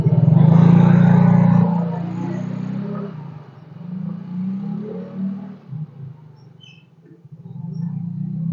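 An automatic scooter's engine, running with its seat removed and short of power from a roller housing fault, revs loud at first, then drops to a steadier, wavering hum with small throttle surges, close by.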